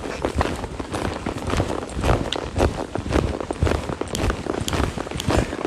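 A horse lopes on a riding surface, its hoofbeats falling in a steady rolling three-beat rhythm, close and loud over a busy background of rustle and tack noise with no talk.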